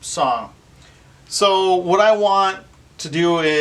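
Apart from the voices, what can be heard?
No everyday noises stand out.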